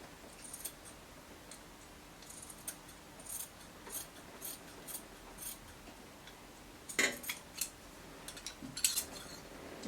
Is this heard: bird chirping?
no